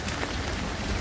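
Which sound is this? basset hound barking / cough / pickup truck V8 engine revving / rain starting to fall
rain starting to fall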